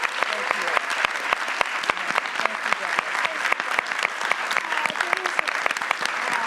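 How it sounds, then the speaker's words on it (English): Audience applause at a public forum on Black educators and justice in schools, a dense steady clapping from a sizable crowd lasting throughout, fairly loud and even with no talking over it. "if you can join me in giving a round of applause"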